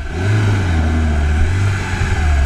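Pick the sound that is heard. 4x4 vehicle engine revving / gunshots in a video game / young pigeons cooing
4x4 vehicle engine revving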